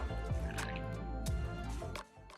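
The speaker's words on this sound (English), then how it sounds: "Add fish sauce." Fish sauce splashes and drips into a Thai chili paste for stuffed bamboo shoots, a brief close, wet pouring and dribbling sound that tails off at the end.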